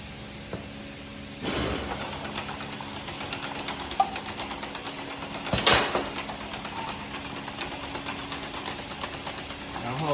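A jar vacuum leak detection machine from YQ Machinery runs with a steady mechanical hum and rhythmic clatter. Louder thumps from the machine cycling come at about 1.5 and 5.5 seconds, and a person talks over it.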